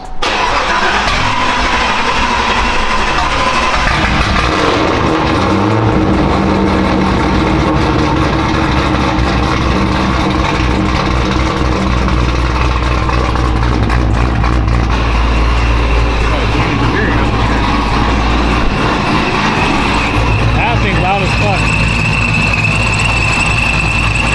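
A supercharged Honda Civic Si engine idles loudly and continuously nearby with a deep rumble and blower whine, occasional revs, and people talking faintly underneath.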